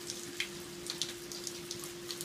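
Rain falling outdoors, a faint steady patter with scattered louder drips and taps, quiet and close, over a low constant hum, with no talking.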